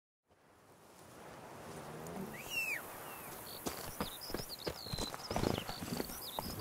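Hooves of the horse in The Witcher 3: Wild Hunt clop at a steady galloping rhythm, mid-distance and moderately loud, with insect and cricket chirps and outdoor ambience around them; no talk.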